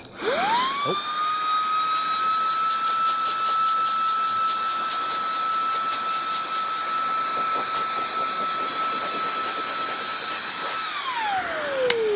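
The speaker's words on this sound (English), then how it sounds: "Has the blower finally had it?" Electric blower on a house build whines steadily at high pitch, spinning up at the start, running loud and constant throughout, then winding down near the end; no talking.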